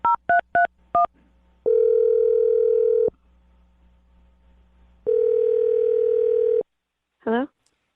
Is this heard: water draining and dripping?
no